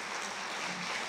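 Applause from the audience at a youth awards gala in Mielec, a steady dense wash of clapping sustained evenly throughout.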